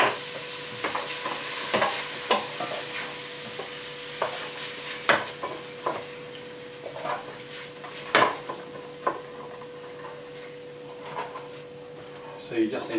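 Minced garlic, mushrooms and bacon frying in a pan, with a steady low sizzle under frequent clinks and scrapes of a utensil stirring against the pan, close by, while people talk.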